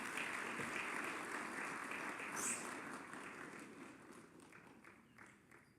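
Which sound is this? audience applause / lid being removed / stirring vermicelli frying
audience applause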